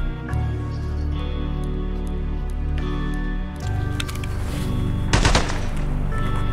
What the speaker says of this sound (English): Just wonder who they're shooting at now